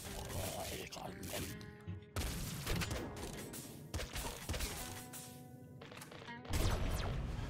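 Weapon fire and explosive impacts from a bomb launcher in the action game Nuclear Throne, with repeated bursts and crashes over busy game music; the blasts come in dense clusters, loudest near the end.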